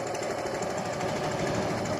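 Suzuki Gixer motorcycle engine idling with a noise problem, giving a steady rapid knocking clatter, close and continuous.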